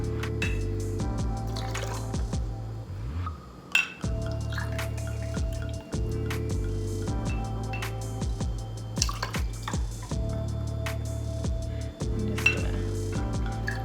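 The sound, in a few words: pouring rosé wine over ice into a glass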